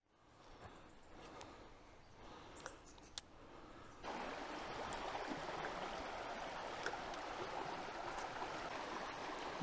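Creek water runs steadily at a trout fishing spot, a broad continuous rush that starts quieter and grows fuller and louder partway through, with a few faint clicks on top and no talking.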